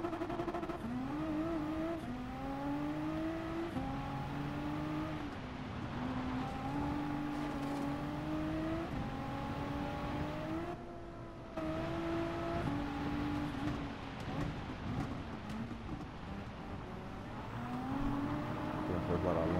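Race car engines in Gran Turismo 7 during a rally, revving and shifting through gears with rising and falling whines, one brief drop mid-way, while someone talks over the engine noise.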